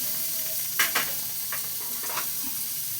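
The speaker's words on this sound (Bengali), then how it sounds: "একদম অল্প তেল দিয়ে আলুটাকে ভেজে নেব" Potatoes frying in a little oil with turmeric and salt, a gentle continuous hiss of sizzling with a few soft stirring scrapes in the middle.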